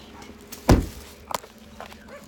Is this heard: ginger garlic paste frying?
no